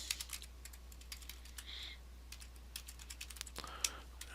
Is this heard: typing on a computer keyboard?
yes